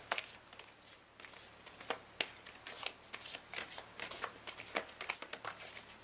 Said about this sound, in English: Sorry about the weird shuffling, but I can't shuffle them, they're too big.